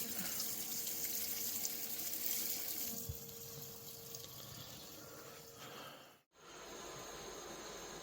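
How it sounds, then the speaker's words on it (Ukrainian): Water trickling steadily during mash sparging in a home brew of Irish red ale, a faint continuous flow with a faint hum that cuts out briefly near the end. "зрошення йде."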